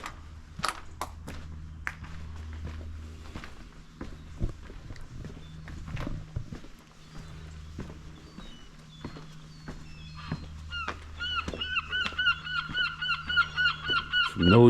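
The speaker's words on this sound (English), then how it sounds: "Some noisy seagulls." Seagulls call noisily near Chepstow Castle, a medieval fortress close to the Welsh coast, their cries rising and clustering toward the end over a low steady background rumble with scattered footsteps.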